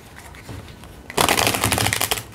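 Tarot cards are shuffled close by, starting with soft handling and then a loud, crisp riffle of flicking cards for the second half.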